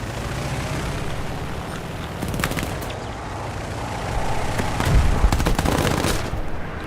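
Rear gunner's machine gun firing from an aircraft in War Thunder, a continuous rattling burst over steady engine drone that swells louder in the second half.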